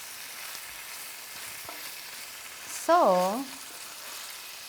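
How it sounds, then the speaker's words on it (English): Ground beef fries in a pan for a lazy-style loco moco, giving a soft, steady sizzle close by, briefly interrupted by a single spoken word. "when they've got the ground beef and they're frying it up"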